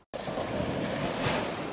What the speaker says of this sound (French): le ressac des vagues